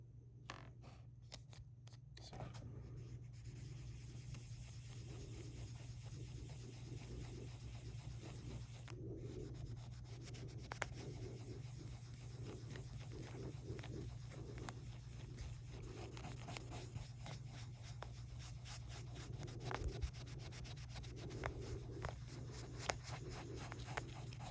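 Steady, rhythmic rubbing strokes applying Polywatch polish to the crystal of a Casio W-95 digital watch, close up, over a constant low electrical hum.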